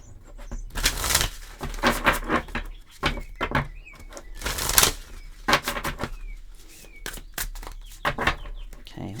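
Quick riffling bursts of a card deck being shuffled, several separate flurries with pauses between, close by; a voice speaks briefly amid them.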